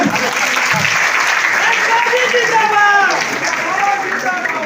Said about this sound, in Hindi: संजय कुमार गांधी जी के स्वागत में जोरदार ताली बजाइए।